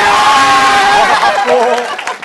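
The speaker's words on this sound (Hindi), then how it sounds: "तालियां हो जाएं जोरदार" A studio audience on a cricket quiz show cheers and shouts loudly, a brief burst of voices and crowd noise close by that fades after about two seconds.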